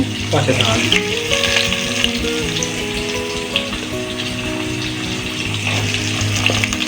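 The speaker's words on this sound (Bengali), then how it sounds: "চলো এবার শক্ত সবজিগুলো আগে ভেজে নেব।" Sweet potato and potato pieces frying in hot oil with bay leaf and dried chilli for a Bengali wedding-style chhyachra, a loud close continuous sizzle with occasional clatter and a voice underneath.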